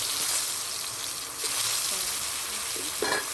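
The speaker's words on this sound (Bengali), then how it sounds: "এবার ওই তেলের উপর আমি পিচা কলাগুলোকে কষে নিচ্ছি।" Green bananas frying in oil in a pan, a steady close sizzle and crackle with occasional faint stirring sounds.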